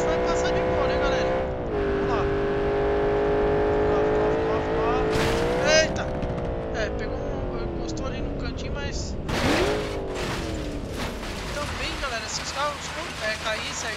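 A Porsche in BeamNG Drive races toward a ramp and leaps it, its engine a loud, sustained whine that climbs and falls in pitch as the car accelerates, with brief bursts of noise near the jump.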